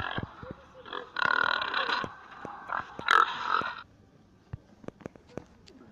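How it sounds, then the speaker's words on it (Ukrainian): A wild boar gives several rough grunts and snorts in a forest setting, close and moderately loud, spaced between faint clicks and rustles. "Кабан."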